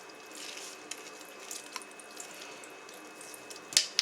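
Makeup brushes are rinsed under a running tap, making a steady hiss of flowing water into a sink with small splashes and a louder splash near the end, close and without talk.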